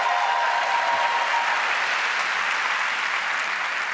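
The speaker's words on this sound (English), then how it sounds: "Can we give him a round of applause" Warm, continuous applause from a large theatre audience at the Olivier Awards ceremony, steady and fairly loud throughout with no speech on top.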